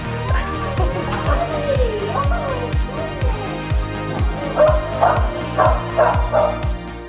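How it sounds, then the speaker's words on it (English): Several puppies bark and yip in quick, overlapping bursts, high-pitched and close, with whiny tones between the barks. "Look at the puppies"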